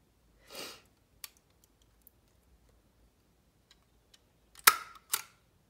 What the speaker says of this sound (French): je vais mettre une petite agrafe, comme ça, ça, tiendra l'élastique, bien serré.